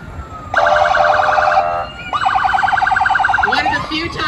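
Fire department trucks from a volunteer fire department sound their sirens during a Swedish festival parade in Stromsburg, Nebraska; loud wailing and yelping siren cycles, with a second siren overlapping and horn blasts near the end.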